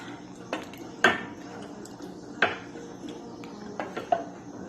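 A utensil knocks and scrapes against a bowl while butter, milk, sugar and a beaten egg are mixed, a few sharp clinks spaced irregularly over soft, quiet stirring, close up.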